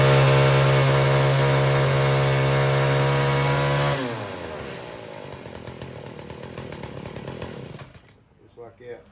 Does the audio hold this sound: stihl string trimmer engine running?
yes